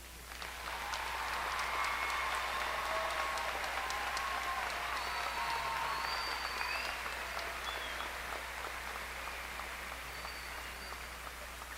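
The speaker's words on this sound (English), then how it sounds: "give this talented class a round of applause" Sustained applause from a large high school graduation audience fills the space evenly for the whole stretch, dense and far-off like rain, with faint cheers and a low steady hum beneath.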